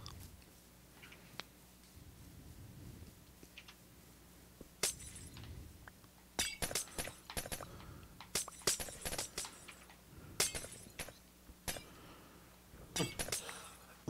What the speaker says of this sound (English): It's making it sound like the piglins are shattering.